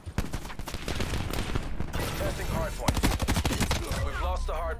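Rapid gunfire crackles through a Call of Duty Black Ops 4 match, dense bursts of shots close and loud throughout, with brief voice sounds mixed in.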